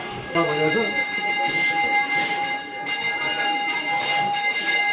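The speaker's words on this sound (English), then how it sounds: "Now we hear the sound of the bell." A temple bell in Kathmandu rings with a sharp strike, then a sustained metallic hum with long shimmering overtones. Softer pulsing swells recur under a busy ambient background.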